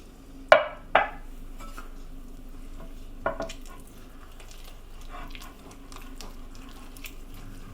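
Pancake batter stirred with a wooden spoon in a bowl as milk is added, with two knocks of the spoon at the start, another later, then soft steady mixing and slopping.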